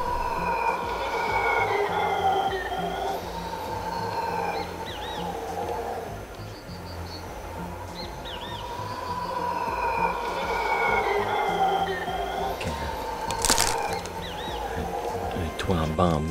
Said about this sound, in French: On y entend les singes hurleurs.